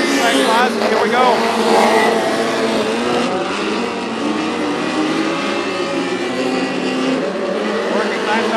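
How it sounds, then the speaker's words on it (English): A dirt-track race car, the number 22 Eagle Tech Power chassis, accelerates hard at Macon Speedway during a POWRI night race, its engine roaring steadily and loud over a field of other cars, with an announcer talking over it. "the Eagle Tech Power False Chassis car number 22 of Andy Ballparker on the loud pedal"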